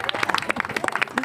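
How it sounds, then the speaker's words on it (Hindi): Audience clapping at an outdoor magic show, a brief patter of separate hand claps from a small crowd, fairly close and irregular in rhythm. "ताली मारिए।"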